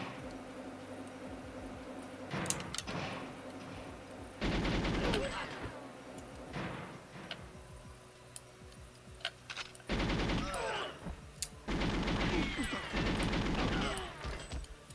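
Dual ZMG submachine guns fire in rapid bursts during a video game stealth mission, several loud, clustered volleys of automatic gunfire separated by quieter stretches of game ambience.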